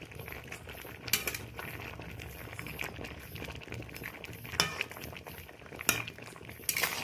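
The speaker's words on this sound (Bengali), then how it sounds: "ঢাকনাটা খুলে নিলাম, একটু নাড়াচাড়া করে দিচ্ছি।" Boiled ridge gourd peels being stirred in a pot, a low bubbling bed with occasional sharp metallic clinks and scrapes of a utensil against the pot, close and unaccompanied by voices.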